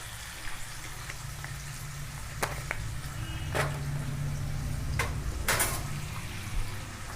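Potatoes for mochar ghonto are stirred in a pan, with a few sharp spoon-on-metal clinks and scrapes over a constant low sizzling hum, with no voices.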